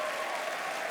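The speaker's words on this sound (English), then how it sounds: "How about one round of applause, final round of applause for the new inductees?" An audience at a university Hall of Fame induction ceremony applauds the new inductees in a full, dense burst of clapping.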